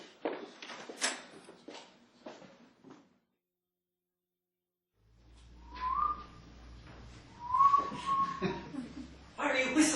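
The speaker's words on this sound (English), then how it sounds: "Why are you whistling?" Someone whistles a few short high notes close by in a cellar, with talking before and after and a quiet gap in the middle.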